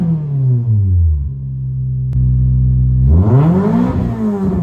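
A Toyota MR2 engine fitted with a $40 intake revs up and falls back, settles into a steady hold, then climbs and drops again in loud, smooth sweeps with no talk.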